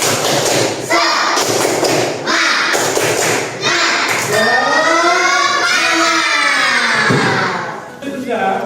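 In an Indonesian classroom, pupils clap a quick patterned rhythm, then break into a loud unison chanted cry. The claps are crisp and near, and the voices swell and fade toward the end.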